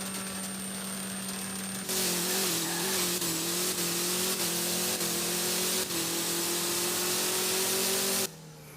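Ford Mustang Boss engine in a racing video game, revving steadily high and loud for about eight seconds with a brief rise partway through, then cutting off abruptly near the end; no talking.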